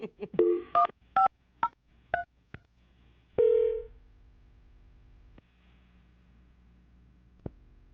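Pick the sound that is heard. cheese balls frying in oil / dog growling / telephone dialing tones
telephone dialing tones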